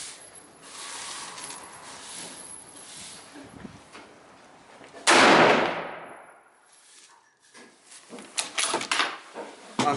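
Rifle shots fired at a target ring out as sharp, loud cracks, one dominant blast around the middle followed by a decaying echo, with fainter pops and clatter before and a burst of quick impacts near the end.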